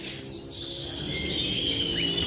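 Rasmi Iran canary singing in a box, a fairly faint, continuous run of high trills and chirps close by with a low background hum.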